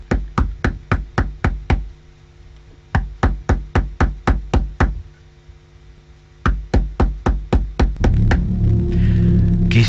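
Hard knuckles rap on a guardhouse door in three quick bursts of about seven evenly spaced knocks each, loud and close, separated by short pauses, with a low rumble entering near the end.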